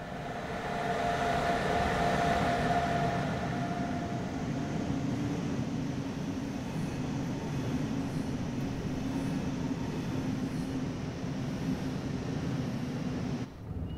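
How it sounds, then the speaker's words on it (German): Intercity train hauled by locomotive 101 106-3 pulling into a station in Train Sim World 4, a steady, loud rumble and rolling roar with wind-like hiss that holds throughout, ending with a brief drop. "Was mit dem Intercity? Oh, da fährt der nächste schon ein."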